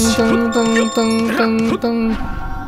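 Repeated bright bell chimes ring in a steady rhythm over several seconds, tonal and clear, with a faint voice mixed in beneath, in the video game Catherine: Full Body.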